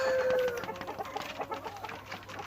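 Native Indonesian kampung chickens cluck and squawk close by in a breeding coop in short repeated bursts, with a few birds calling over one another.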